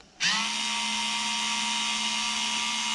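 A Black & Decker motorized screwdriver removing screws from a Royal Enfield Interceptor 650 motorcycle whirs up abruptly and holds a steady, close, high-pitched motor whine.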